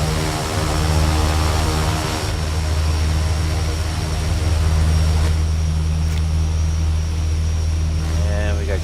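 A simulated turboprop engine in X-Plane idles steadily after start, a continuous droning whine with strong low harmonics that holds throughout while a voice talks over it.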